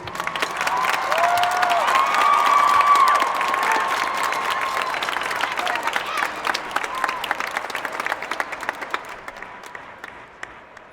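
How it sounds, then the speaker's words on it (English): A crowd at a high school graduation ceremony applauds the graduating seniors. The clapping is loud and sustained, mixed with some cheering and crowd noise, and it tapers off gradually toward the end. "let's have a round of applause for these amazing students"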